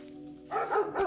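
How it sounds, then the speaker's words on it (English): A dog barks a few times in quick succession inside the video game Mad In Heaven, close and moderately loud, with no talk over it. "I hear a puppy."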